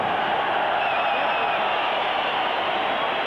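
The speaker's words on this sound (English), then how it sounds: "how about a round of applause for this young man from San Francisco who came here with a lot of heart, Henry Martinez" Boxing arena crowd applauding and cheering for boxer Henry Martinez after a WBO super flyweight bout, a dense steady wash of clapping and crowd noise held throughout.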